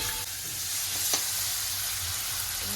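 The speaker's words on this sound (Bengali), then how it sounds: "পেঁয়াজ টমেটোটা ভাজা হয়ে গেছে" Onion and tomato frying in a pan for a bitter gourd chutney, a soft steady sizzle with one brief clink of a utensil, fairly quiet, no talk.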